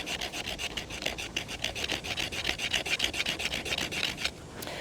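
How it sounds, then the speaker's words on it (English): A Marbles camp axe blade scrapes fatwood in quick, rhythmic rasping strokes. The dry scratches are close and fairly quiet, repeating evenly for nearly five seconds with no talk. "We were able to scrape a little fat wood there."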